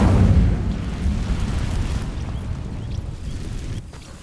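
The Incendio fire spell cast in Hogwarts Legacy, setting dry vines alight: a deep booming whoosh of flame that starts loud and settles into a sustained low roar.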